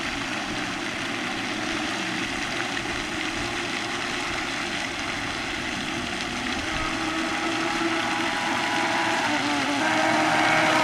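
A vintage RC boat runs on water, its small motor and propeller giving a steady, buzzing drone at moderate distance that swells slightly under throttle, with no talk.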